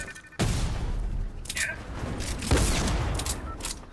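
Gunfire rattles through a Fortnite match, with a sudden loud volley followed by repeated bursts of shots and booming impacts, close and dense, continuing over several seconds.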